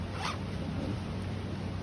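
A zipper on an Aprica baby carrier pocket is drawn in one smooth, quiet pull, close by with no talking over it.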